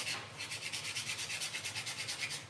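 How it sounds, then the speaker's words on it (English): Rhythmic back-and-forth scratching of sandpaper on wood, steady strokes about six per second, close and moderately loud with no talking. "you're sanding that down, always sand downwards"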